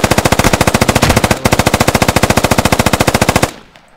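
An automatic weapon fires in the military shooter game Squad, a loud, rapid, evenly spaced string of rounds with one tiny hitch. The long burst cuts off sharply and leaves a short fading echo.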